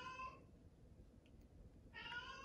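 A pet cat lets out two drawn-out meows, one at the start and one near the end, close and clear in a quiet room.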